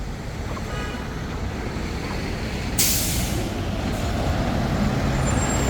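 A truck passes on Frankfort Street in New York City: a steady, loud roadway rumble with a sudden sharp hiss of an air brake partway through, then continued engine and traffic noise.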